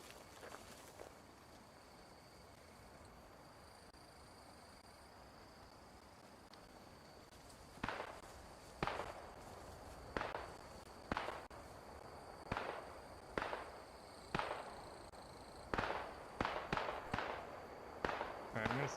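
Covering gunfire in Post Scriptum cracks out as a string of sharp, loud shots after a quiet start, arriving at irregular intervals and quickening toward the end, each with a short echoing tail.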